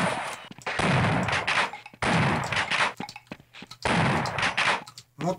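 Loud bursts of gunfire, shotgun blasts and rapid shots, in the Half-Life video game, coming in three dense volleys separated by short gaps, no talking.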